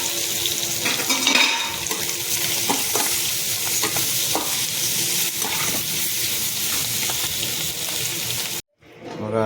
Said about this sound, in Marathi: आता आपण याच्यामध्ये बटाटे मिक्स करून घेणार आहोत.